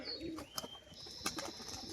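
A pigeon coos softly in a loft, faint low calls against a steady background hiss, with a few brief sharper sounds and a light flutter nearby.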